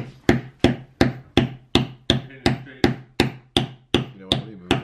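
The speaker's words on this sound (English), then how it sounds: "you just have to put the nails in and then hammer it" Hammer blows driving nails into a wooden birdhouse kit, about a dozen sharp, evenly paced knocks, close and loud, with no talking over them.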